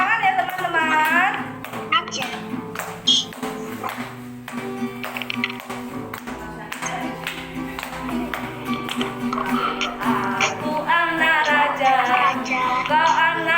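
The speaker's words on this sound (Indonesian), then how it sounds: "sambil tepuk tangan ya teman-teman." Young preschool and kindergarten children clap along while singing a worship song at a children's church service, steady claps mixed under continuous group singing and a leading adult voice.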